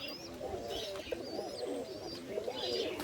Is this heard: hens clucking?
no